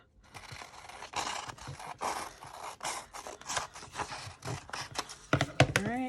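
Scissors cut paper for a junk journal in a close series of crisp snips and scraping slides that run steadily, followed by brief rustling near the end.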